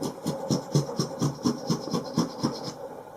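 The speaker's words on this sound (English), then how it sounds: "we'll carry on scraping and then give it a sand" A scraper strips old finish from an old oak pub table in steady rhythmic strokes, about ten rasping passes, close and even.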